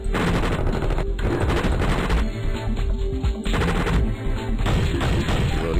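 Rapid, dense bursts of gunfire in a Flash shoot-out video game caricaturing Bush and Rice, with machine-gun volleys and shots layered continuously, loud and close with brief gaps.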